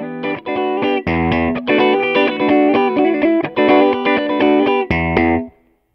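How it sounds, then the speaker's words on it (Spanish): Clean Gibson Les Paul electric guitar played through a Fender Blues Junior amp, ringing chords strummed loudly in a steady rhythm with brief gaps between changes, ending on a final chord that decays to silence. "Este es el sonido de la guitarra limpio."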